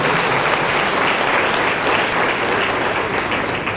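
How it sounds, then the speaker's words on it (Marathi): An audience applauds steadily and loudly at a 129th Karmaveer Jayanti commemoration gathering in September 2016. The dense clapping holds throughout with no voices over it. "आपण सर्वांनी टाळ्या वाजवून कर्मवीरांच्या त्या कर्तृत्वाला आपण सन्मान करूया."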